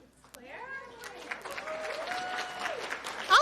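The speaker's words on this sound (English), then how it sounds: "I'll take those applause." Audience applause at a library's Read Brave evening event, a steady patter of clapping building over a few seconds and swelling loudest at the end, with voices and a tonal sound threading through it.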